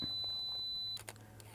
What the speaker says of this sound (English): So I'm going to take this image now, put my timer on.